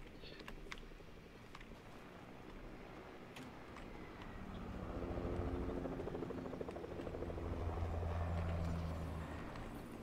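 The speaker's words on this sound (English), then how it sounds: "There's a second helicopter somewhere." A helicopter flies in a video game, its rotor chop starting faint and swelling to a nearer, louder whirring pulse before easing slightly, with occasional game clicks.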